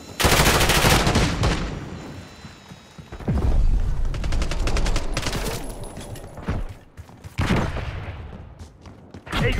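Rapid automatic gunfire in Call of Duty Black Ops 6 online multiplayer, loud sustained bursts with sharp rattling shots, separated by brief lulls and heavy impacts, with no talk over the shooting.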